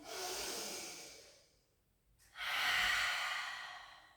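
Two long, deep breaths during a pilates exercise, each a broad airy rush that fades into a brief pause before the next one swells up louder and close to the mic.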